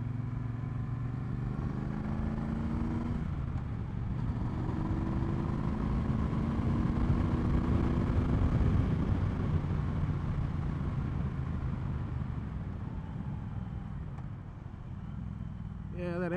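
A Triumph Bonneville Bobber motorcycle on a test ride makes a steady engine drone with wind rush, its pitch rising and falling through gear changes, close and continuous, with faint talk at times.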